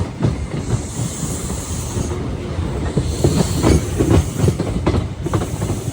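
A train rumbles steadily past up close, with rhythmic clickety-clack of wheels and a hissing overtone throughout.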